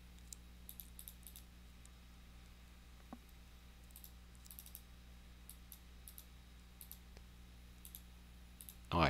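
Computer mouse clicks during image editing in GIMP, faint and sparse, with small single and double clicks spread over a quiet room tone and a louder rustle at the very end.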